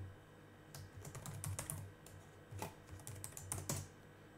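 Quiet keystrokes on a computer keyboard as a password is entered for a CentOS 8 server login, a short run of soft irregular clicks in a few bursts, with no talking.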